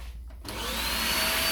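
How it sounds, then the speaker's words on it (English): A vacuum on a cheap Aldi bandsaw switching on in a workshop, a sudden onset after a low hum that quickly rises into a loud, steady whine, alone without talk. "Vacuum on."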